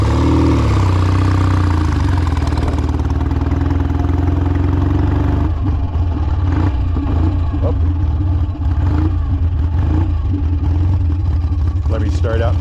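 A BSA motorcycle engine runs loudly and steadily, rising in pitch as it works up through its four gears, with gear changes marked by dips and shifts in the drone while someone talks over it.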